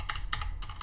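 Quick bursts of computer keystrokes, three short clusters of close, crisp clacks, as a command is entered at a Cisco Firepower Management Center command line.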